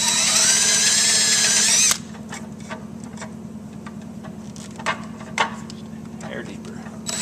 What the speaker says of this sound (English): So we're going to go ahead and get the rest of these drilled.